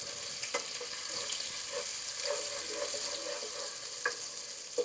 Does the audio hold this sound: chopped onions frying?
yes